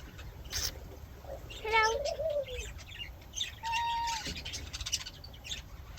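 Budgies in an aviary holding about 35 birds, giving short, faint chirps and squawks with a couple of clearer rising calls, over a quiet background hiss.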